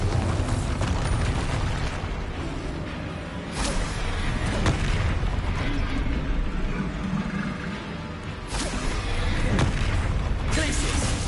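Bombarda spell explosions in Hogwarts Legacy on PS5, heard as repeated booming blasts and bursts that fill a dense, loud game soundscape without a pause.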